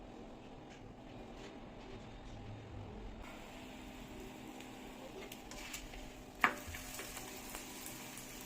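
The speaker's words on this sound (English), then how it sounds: "Now fry it in tawa" Stuffed paneer paratha fries on a tawa with ghee or butter, a quiet steady sizzle running throughout with one sharp clack of a utensil near the end.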